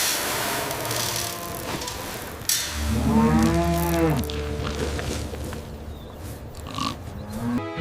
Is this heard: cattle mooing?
yes